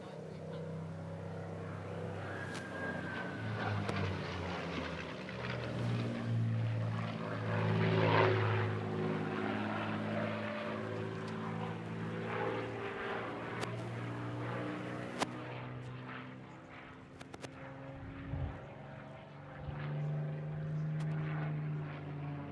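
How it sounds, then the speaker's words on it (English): Rolls-Royce Merlin engine of a Supermarine Spitfire flying at an airshow, a loud, steady propeller drone that swells as the plane passes close, then holds a rich rumbling tone. "We want to hear this majestic Merlin engine on the Spitfire"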